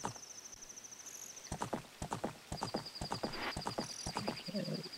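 Epona, the horse in Zelda: Ocarina of Time, clip-clops in steady hoofbeat rhythm with a whinny, over a sustained high game tone and light water-like ambience.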